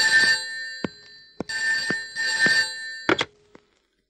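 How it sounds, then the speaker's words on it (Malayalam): A telephone rings in repeated bursts of bright electric bell trills separated by short pauses, loud and close, with a few sharp knocks and no talk. "Phone phone."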